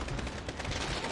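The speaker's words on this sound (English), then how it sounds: "Indirect gunfire." Rapid, dense bursts of distant gunfire rattle continuously in Call of Duty Modern Warfare, a muffled fusillade of overlapping shots at moderate volume.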